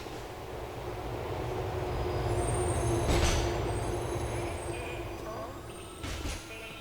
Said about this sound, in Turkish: Wait for the train to arrive.